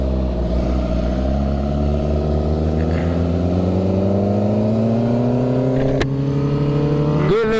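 A rebuilt 2006 Suzuki GSX-R 750 motorcycle on a road test ride, the engine droning steadily and rising slowly in pitch as it accelerates, close and loud with wind noise.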